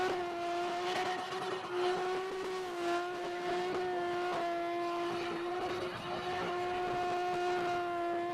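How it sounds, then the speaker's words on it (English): Drift car doing victory skids at Sydney Motorsport Park, its engine holding a loud, sustained high-revving wail with slight surges, heard from a distance across the track. "So we've got Bogger up here doing victory skids for his fourth place position"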